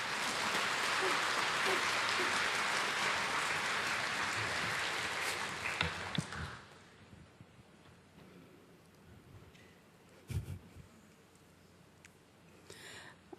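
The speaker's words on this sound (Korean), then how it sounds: "이 시간 우리 김상선 목사님 나오실 때 우리 함께 환영의 박수로 함께 모시도록 하겠습니다." A church congregation applauds to welcome a pastor, a dense, steady wash of clapping for about six seconds that then drops away to a quiet room with a few faint knocks.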